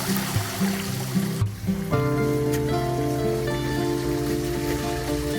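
A garden eco-pond with a waterfall running, a compressor and aerator, giving a steady splash and trickle of falling water under a constant mechanical hum that persists throughout, with no talk.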